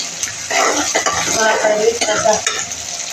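Onions frying in a pan for a potato and green bean curry, with loud sizzling and a spoon stirring and scraping against the pan in close, uneven bursts.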